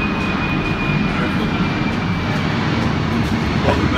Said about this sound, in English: Excuse the aeroplanes, it's a very busy area.